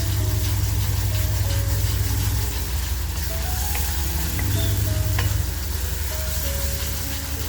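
Spinach masala for garlic spinach prawns fries in oil with a loud, continuous close sizzle. Occasional spoon scrapes and faint clinks come through as it cooks down until the oil separates.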